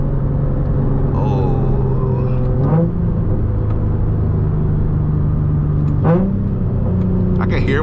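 Engine of a tuned Nissan 350Z or Infiniti G35 sports car droning steadily while driving, with two sharp rev blips from downshift rev matching, heard loud and close beneath road rumble.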